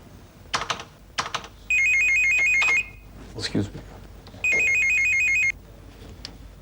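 A phone rings in two electronic ringtone bursts indoors in a home drama scene, loud and clear, separated by short clatter and a brief spoken remark.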